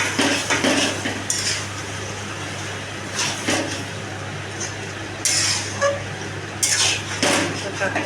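Meat sautéing in a pan, heard as loud intermittent metal scraping and clatter from stirring over a low steady hum.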